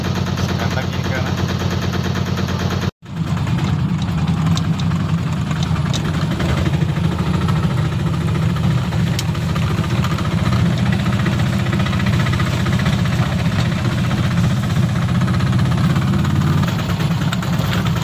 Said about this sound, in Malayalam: അപ്പോൾ വണ്ടിയൊക്കെ സ്റ്റാർട്ടാക്കി നല്ല ഉഷാറായിട്ട് നിൽക്കുകയാണ്